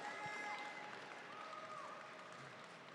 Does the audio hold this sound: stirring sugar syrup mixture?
no